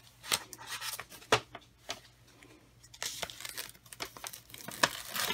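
Sublimation paper being peeled off a full-coverage printed sock after heat pressing at 400 degrees for 60 seconds, with crisp crinkling and tearing sounds in bursts, close and fairly quiet with no talk.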